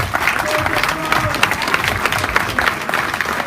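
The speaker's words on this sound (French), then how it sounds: "Je vous demandais de l'applaudir." Audience applause at a French political meeting, a steady wash of clapping from a crowd with some voices mixed in throughout.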